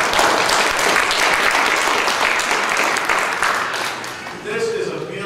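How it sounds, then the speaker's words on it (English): A church congregation claps at a Lutheran contemporary service, dense sustained applause from many hands filling the room, fading toward the end as a voice begins speaking. "let's give him a round of applause."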